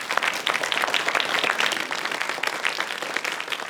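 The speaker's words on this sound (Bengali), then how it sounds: "জোরে হাততালি" Loud applause from an audience at a children's magic show, a dense burst of many hands clapping together for a few seconds.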